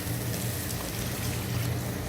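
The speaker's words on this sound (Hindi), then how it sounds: "अब इसके अंदर पानी डालेंगे" Water poured into a pan of fried eggplant curry with gram flour, a steady close splashing hiss that runs without pause for about two seconds, with no talking.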